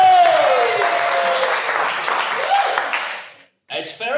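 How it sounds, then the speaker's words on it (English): A live improv comedy audience claps and cheers for the performers, a loud broad wash of applause that fades out and leaves a brief silence before noise resumes. "Let's give them a round of applause."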